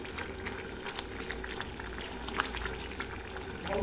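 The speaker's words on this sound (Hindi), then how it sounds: "और फिर इसे हम चलाते हुए पकाते रहेंगे।" A thick mixture simmers in ghee in a pan while being stirred until it thickens, giving a steady bubbling, sizzling bed of sound with faint scraping touches throughout, close and moderately quiet, with no talking.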